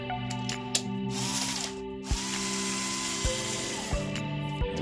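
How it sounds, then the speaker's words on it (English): Small screws being backed out of a hair clipper blade with a tool, several sharp clicks and ratcheting ticks over a steady mechanical hum, close up with no talking. "And all you're doing is taking out the tops of the screws"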